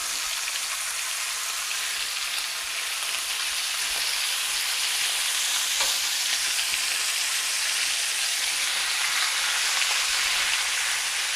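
Chicken thighs fry in hot, splattering oil, a dense continuous sizzle and crackle heard steadily throughout with no talk.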